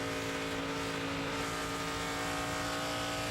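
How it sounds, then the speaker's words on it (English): Onboard a NASCAR Nationwide Series race car at Homestead, Danica Patrick's engine drones loud and steady as she feathers the throttle, with a dense unbroken roar and a faint whine and no voices heard. "You can hear her tiptoeing with the throttle there a little bit."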